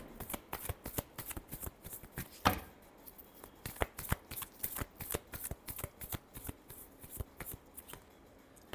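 A deck of tarot cards being shuffled up close, a quick run of crisp riffling flutters with brief pauses between bursts and no one speaking.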